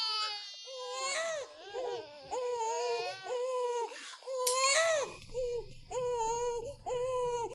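A baby girl found at a riverbank cries in a drama scene, wailing loudly and continuously in repeated rising and falling sobs with brief catches of breath.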